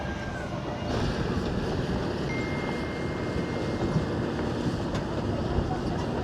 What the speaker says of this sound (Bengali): এত বাতাস মানে এখানে বসে থাকাই অসম্ভব